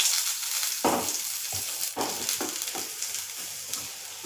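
Chopped onion frying in a pan as the base for a tomato chutney, a steady close sizzle with a few louder bursts of stirring and spatula scrapes.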